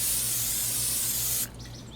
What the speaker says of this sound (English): Let's spray a little bit more oil on there.